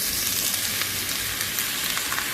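Shrimp sizzling in a hot pan with browned onions, a steady dense crackle and hiss that runs on without a break, with no voices over it.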